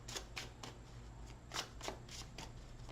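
A deck of tarot cards is shuffled by hand, with quick, crisp bursts of flapping cards repeating every fraction of a second, close and fairly quiet.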